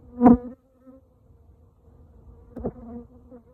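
Short buzzing bursts of bees and wasps flying close by at a hive, one at the start and another a few seconds later, over a quiet background.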